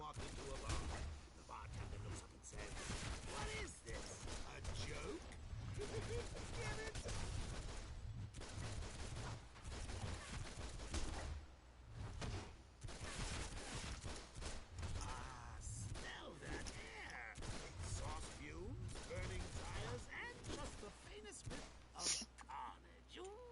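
Joker's dual pistols in DCUO firing on auto fire, a dense, continuous stream of rapid gunshots and impacts running the whole stretch, with someone talking over the shooting.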